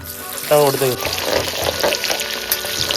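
Ginger and garlic drop into hot oil with mustard seeds for a Kerala country-chicken dish, giving a loud, steady sizzle and crackle that flares sharply as they hit the pan, with stirring noises throughout.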